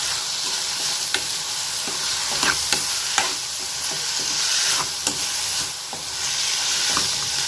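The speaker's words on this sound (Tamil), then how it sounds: "தக்காளியும் சேர்த்து நல்லா வதக்கிக்கிடலாம்" Tomatoes sautéing in a pan for paneer butter masala, with a steady sizzle and hiss broken by occasional sharp clinks and scrapes of a spatula stirring; no talking.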